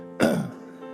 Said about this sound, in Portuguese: Eu lembrei agora da tosse.